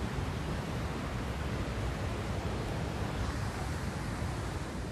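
Steady broadband roar of a waterfall at Jaldar, a dense continuous rush of falling water with no breaks, loud and even throughout.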